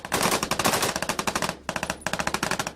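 Heavy machine gun fire in Afghanistan combat, rapid bursts of loud close shots in a steady rattling rhythm, with a brief pause midway before firing resumes.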